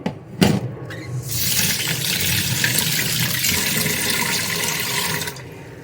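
Tap water runs steadily into a vessel of rice as it is washed, a loud continuous rushing pour heard close up after a couple of short knocks at the start, ending abruptly, with no speech.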